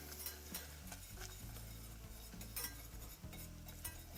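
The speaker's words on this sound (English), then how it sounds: "You're going to whisk it the whole time" A butter and flour roux for a croque madame whisked steadily in a pan, giving a faint, rhythmic scraping and light metallic clinking over a soft sizzle, with no voices.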